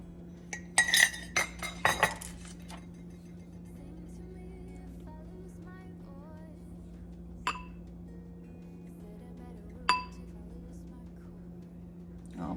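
A spoon clinks against a bowl a few times while flour is added for sourdough, the sharp clinks clustered early with a couple more later over a low steady hum.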